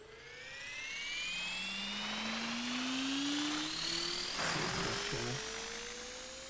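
A simulated helicopter in the RealFlight Evolution flight simulator game whines and whirs, its pitch rising steadily as it speeds up, then drops to a rumble near the end. It is loud and alone, with no talk over it.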